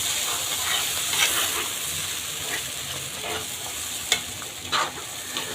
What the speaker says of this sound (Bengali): এখন সুন্দর করে মশলাটা কষিয়ে নেব।